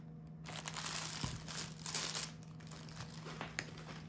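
Protective paper crinkles inside a slim brown natural-leather men's bag: close, quiet rustling and crumpling in irregular bursts for a few seconds, with no voices.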